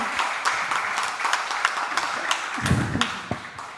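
An audience applauds at an Indonesian arts talk show with a steady wash of clapping, some individual claps standing out, continuing throughout.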